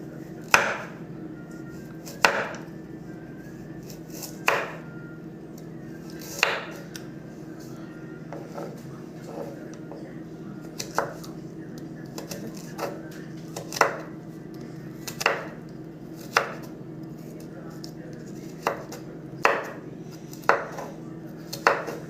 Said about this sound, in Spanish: El siguiente corte que vamos a realizar es el corte pluma